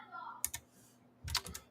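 Quiet computer keyboard typing, two short bursts of clustered key clicks separated by a pause, faint and close under a low hum.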